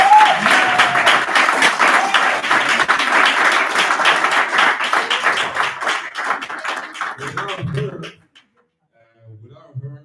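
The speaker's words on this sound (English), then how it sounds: "give a big round of applause for my women for inviting all the guests" Crowd applause at a Congolese community inauguration event in Ireland, loud rapid clapping that carries on for several seconds, thins out and stops, followed by brief quiet and a few faint sounds.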